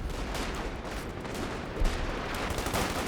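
Heavy artillery barrage in the World War II strategy game Company of Heroes 2, a dense continuous roar of blasts and gunfire with one stronger deep thump near the middle, loud and unbroken throughout.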